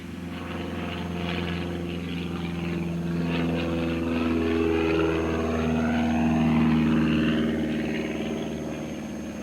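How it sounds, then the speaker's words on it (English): Light propeller airplane taking off on the last leg of a flight, a loud steady engine drone with a rising and shifting propeller tone that holds close and constant throughout. "after a thorough pre-flight check, it's takeoff time on the last leg of the flight."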